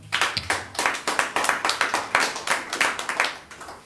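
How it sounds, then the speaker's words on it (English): A church congregation claps in a quick, distinct rhythm, about a dozen crisp hand claps landing in steady succession with little else beneath them. "Just give Jesus a hand clap."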